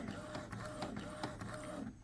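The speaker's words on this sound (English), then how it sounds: "You see the paper going through the feed there." Epson inkjet printer feeding paper and printing, a steady mechanical whir with regular clicking pulses of the print head running throughout at close range.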